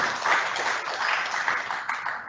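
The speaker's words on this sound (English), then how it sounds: "please give a big round of applause to" A crowd at an entrepreneurs' meet applauds the Chief Minister, a steady wash of clapping at moderate level, heard alone with no talking over it.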